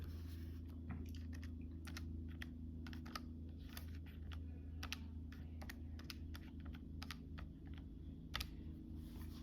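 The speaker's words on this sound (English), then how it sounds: "Something I could do is type it into the calculator" Fingers tap numbers into a calculator, making quick, light, irregular key clicks that come in rapid clusters over a quiet room hum.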